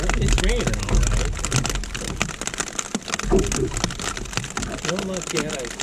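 Rain falls steadily and close, pattering on surfaces aboard a boat while salmon fishing, with someone talking over the constant patter.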